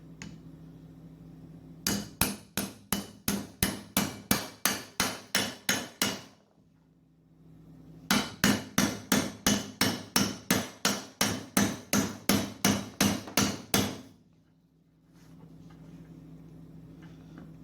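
Two long runs of sharp, evenly spaced hammer blows on a socket drive swing arm bearings into a YZ85, each run about a dozen loud metallic strikes, separated by a short quiet pause.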